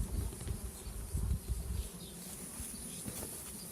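A dense cloud of honeybees drones around a hive beside a sugar feeder, a faint but steady buzz that swells louder early on, then settles into a quieter hum.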